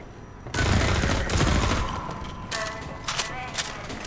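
Gunfire in Half-Life 2 against Combine civil protection: a dense burst of shots starting after a quiet half-second, followed by scattered single shots, fairly loud and close.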